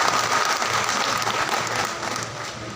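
Loud, sustained applause from an audience at a Karnataka ration dealers' association event honouring D. Krishnappa, a dense steady wash of clapping throughout with no voices over it.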